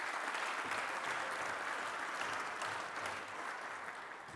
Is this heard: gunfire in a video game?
no